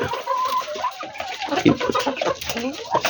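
Hill breed chickens cluck and murmur nearby in short overlapping calls, with a faint background hum and no clear speech.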